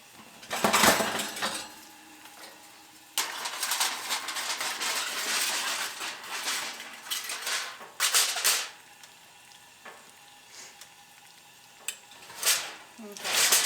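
Pork chops frying in a pan, a steady sizzle under the cooking, with bursts of louder spitting and clinks of a utensil against the pan.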